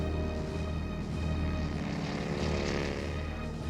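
Propeller aircraft engines drone loudly and without a break as planes are launched from an aircraft carrier at sea, a dense, sustained roar that swells slightly in the middle.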